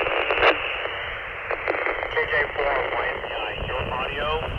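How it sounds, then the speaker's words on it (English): A two-way radio transmission keyed through a Baofeng handheld on a foldable VHF/UHF antenna comes through band-limited and heavily distorted. A garbled voice is buried under constant hiss and background noise throughout. "your audio is almost unreadable. You've got a lot of background noise."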